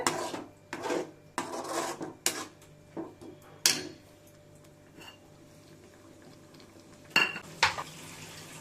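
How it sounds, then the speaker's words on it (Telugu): A spoon stirring thick prawn curry in a pot, with a run of irregular scraping and clinking strokes against the metal, loud bursts separated by quieter gaps, close by with no talking. "ఇప్పుడు మనము దీన్ని బాగా కలిపెట్టుకుందాము."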